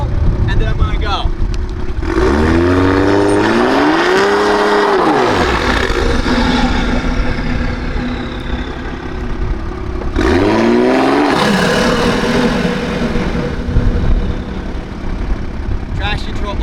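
A Toyota Supra fitted with a drag pack revs hard on a wet road as its tires spin, the engine note rising and falling in two loud, sustained surges.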